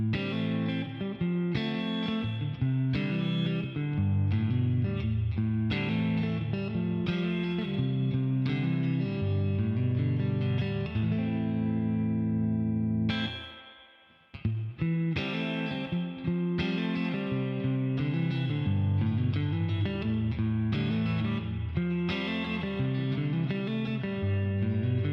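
Clean electric guitar playing on a Harley Benton TE-52 neck pickup through a Boss Katana 50 Mark II clean channel with a touch of reverb; steady chords and notes ring out continuously, with a brief pause midway before playing resumes.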